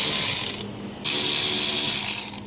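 Continuous ratcheting clicks from a hand ratchet loosening a bar on a crashed 2009 Porsche Cayman, close and steady, with a short pause near the middle before the rapid clicking resumes, no talking.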